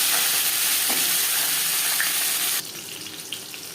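Pieces of taro frying in hot oil in a wok for a fish curry, giving a loud, continuous hiss and crackle that drops to a softer sizzle partway through, with no voices.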